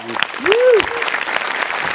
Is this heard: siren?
no